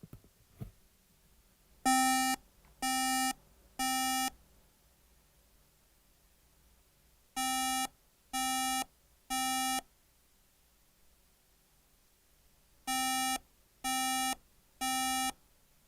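Circuit board under repair beeping in three groups of three evenly spaced electronic tones, with long pauses between groups over a faint background hiss.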